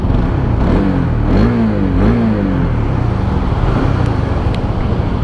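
A 2022 Honda CB150X motorcycle engine idles steadily just after starting, a close, continuous mechanical drone with a brief rise and fall in pitch early on, alone without speech.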